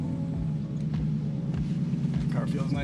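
A Q45 car engine running on E85 fuel blend drones with a steady low rumble while driving, with voices talking faintly over it.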